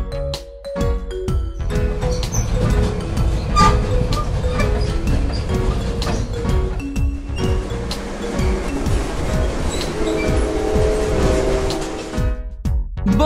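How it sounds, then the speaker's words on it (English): A tram rolls past with a steady, dense rumble and rushing noise, interspersed with clanks, a ringing bell-like tone, and tonal squeals over about thirteen seconds, with no talk. "Tram."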